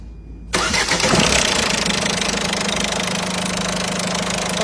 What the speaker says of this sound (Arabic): شوفوا كيف يدور الموتور.